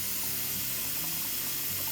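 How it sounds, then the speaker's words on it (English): Water pouring from a tap into powdered meal shake mix, a loud, dense, continuous gushing hiss throughout. "Simply add water."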